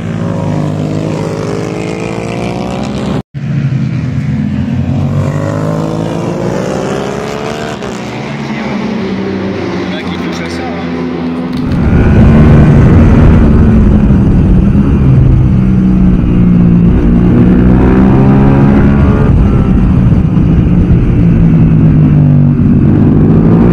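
A racing motorcycle engine, a two-stroke twin-piston endurance bike, revs loudly with rising and falling pitch, cutting briefly, then returning with a louder, harsher roar for the second half.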